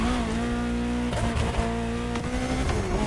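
Ferrari supercar engine in The Crew Motorfest racing game, a steady loud droning roar with strong harmonics that shifts pitch slightly as it revs, continuous with no talking.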